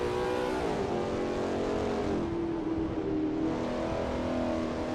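A 1984 Group C touring car in Assetto Corsa's historic ATCC series on a hot qualifying lap, its engine droning loud and steady, pitch sliding down and climbing again through the gears without a break.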